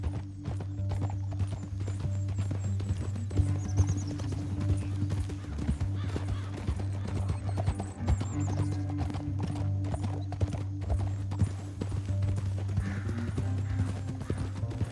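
Horse hooves in the video game Red Dead Redemption 2 clatter in a fast, continuous galloping rhythm over a steady low drone, with occasional horse whinnies mixed in.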